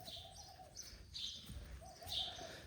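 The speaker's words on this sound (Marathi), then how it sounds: "चिमण्याने एक लय वैताग आणलाय बघा." Sparrows chirp faintly outdoors near a house, with a few brief high calls coming in scattered bursts against a quiet background.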